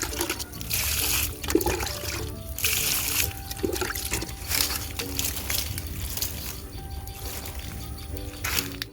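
Fermented rice water is poured steadily around a Thai rose apple tree in a home garden, a continuous trickling and splashing stream that runs close and fairly loud for the whole stretch, with faint birdsong behind.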